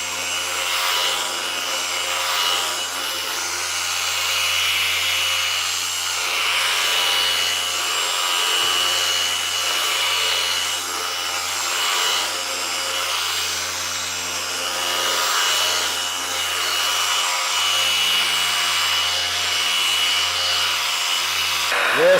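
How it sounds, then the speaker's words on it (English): A polisher runs steadily on a car panel while deep scratch marks are polished out, a constant loud whirring hiss with a low motor hum that holds unchanged throughout. "you're now going to polish this whole panel out, making sure that there is no marks left over from the rotary polish"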